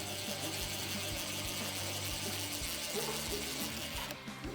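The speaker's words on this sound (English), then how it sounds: "we're going to remove the screws, holding the front plate and the back plate together." Screws are backed out of the front and back plates of an August Lock Pro smart lock with a ratcheting driver, giving a steady run of close mechanical clicks and whirring that stops abruptly near the end, with no talking.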